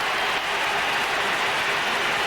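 A huge crowd roars and cheers without a break after a point at the 2002 Munster hurling final between Waterford and Tipperary, a dense, loud wall of noise from the stands.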